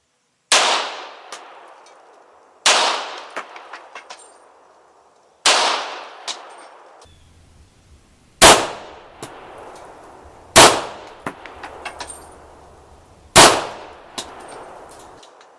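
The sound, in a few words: gunshots hitting steel targets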